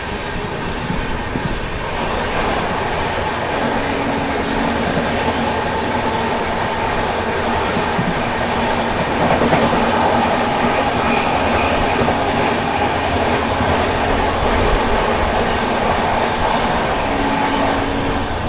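A passenger train overtaking the Barauni-Gondia train at Mirzapur rumbles steadily and loudly throughout, with continuous wheel clatter and rail noise heard close from on board and no talk.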